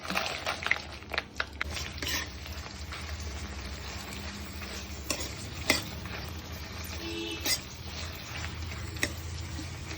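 Dried red chillies are stirred and fried in a pan over a low flame for gongura chutney, with a soft continuous crackle and repeated scraping clicks of the spatula close by.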